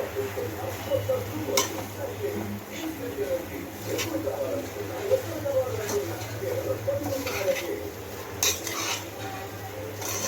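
A spoon stirs uggani in a pan on a stove, scraping and clinking against the metal in a loose, steady rhythm under a constant low hum, with someone talking over it.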